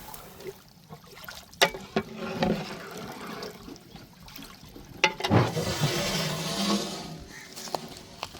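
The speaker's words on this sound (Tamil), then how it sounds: "நல்ல பிரியாணி மசாலா நல்லா கொதிச்சு வருது" Chicken biryani masala liquid bubbling and boiling in a pot on the stove, a steady watery churning with louder gurgling swells midway, close and alone.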